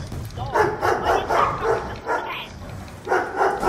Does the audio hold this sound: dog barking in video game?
yes